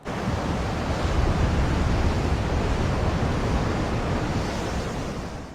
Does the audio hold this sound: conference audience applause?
no